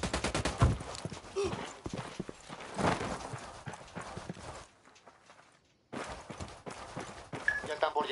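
Gunfire in the video game Ghost Recon: Wildlands, a rapid series of sharp shots and bursts across most of the stretch, dropping to a brief lull before firing resumes, with game voices mixed in.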